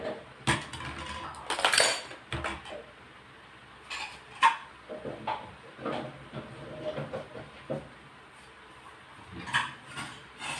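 Glasses and dishes clink and clatter in irregular bursts as they are set down and stacked, with quiet gaps between.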